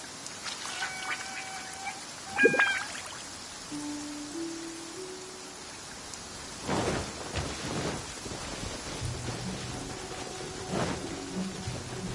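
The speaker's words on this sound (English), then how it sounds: "The rain won't slow me down" Rain falls steadily in the game Genshin Impact while thunder rumbles in several rolls, the biggest a sharp crack early on, with chiming game tones and melodic effects scattered over the storm.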